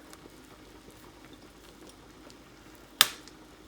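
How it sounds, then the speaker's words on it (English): Beef broth for noodle soup bubbles quietly in a pot, a faint, steady low simmering patter with no talk, broken once near the end by a single sharp clink. "Now that the broth has boiled, let's remove the foam on the surface and then turn down the stove."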